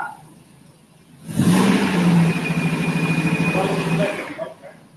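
A Mercedes car engine with a slight exhaust leak revs up sharply from quiet, holds a loud, rough, steady drone for a few seconds, then drops away.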